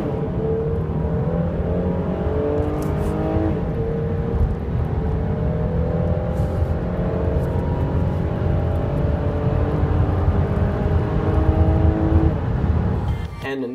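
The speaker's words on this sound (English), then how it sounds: "I put an AFE permanent air filter in the engine and it sounds pretty" A 2015 Jeep Cherokee Trailhawk engine fitted with an AFE permanent air filter revs and pulls, a loud, continuous drone with shifting tonal pitch heard close from inside, ending in a short clunk.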